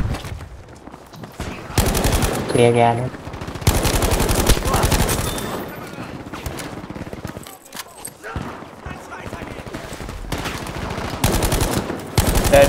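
Bursts of automatic gunfire from Battlefield 5 on the Marita Conquest map, including Sturmgewehr 1-5 fire, rattle in repeated loud volleys with short gaps, while a voice speaks briefly between them.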